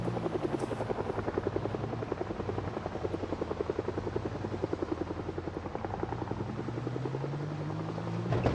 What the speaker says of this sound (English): they're still following the helicopter